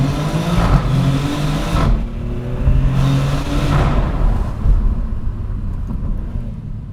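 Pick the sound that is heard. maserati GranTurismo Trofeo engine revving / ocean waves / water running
maserati GranTurismo Trofeo engine revving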